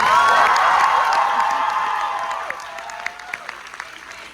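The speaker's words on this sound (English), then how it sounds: "Can we get another round of applause for that?" Audience applause at a Yellowjackets Q&A: a dense, loud burst of clapping and cheering that fades over a few seconds into scattered individual claps at the end.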